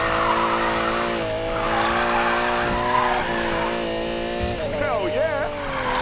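A Lamborghini drifting in the video game NFS Payback, engine droning loud and steady while tires squeal in long wavering streaks, with a voice talking over the action.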